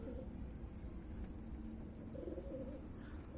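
Pigeons coo steadily inside a pigeon loft, low murmuring calls repeating over constant background noise with no speech.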